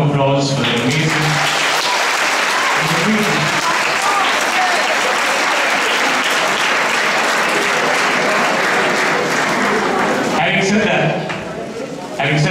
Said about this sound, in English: all the four schools, deserve a round of applause for their amazing.